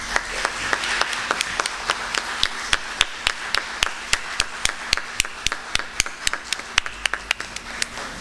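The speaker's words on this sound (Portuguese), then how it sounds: "peço aos presentes que, por favor, deem uma salva de palmas a essa equipe" Audience applause at a seminar on internet governance in Belo Horizonte: a small crowd claps steadily for about eight seconds, with a few sharp individual claps standing out clearly above a quieter room.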